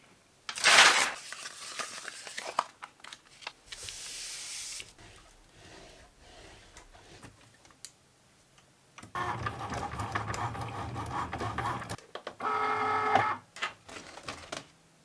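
A Cricut cutting machine works on an infusible ink sheet, with bursts of whirring motor movement and clicking carriage passes separated by quieter pauses, heard up close without speech.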